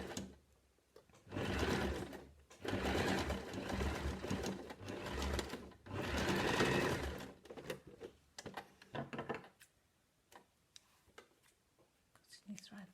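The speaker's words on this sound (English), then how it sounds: "reverse stitch to secure your stitch line" A domestic sewing machine stitches a simple fabric face mask in several whirring bursts, stopping and starting as it reverse stitches, followed by small clicks and handling sounds, with quiet talk in the background.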